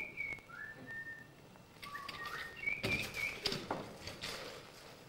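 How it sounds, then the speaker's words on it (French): Birds sing in the park of a 19th-century château: a few clear whistled phrases, some sliding and some steady, come in separated bursts against quiet background hiss. "De temps en temps, on entend des chants d'oiseaux."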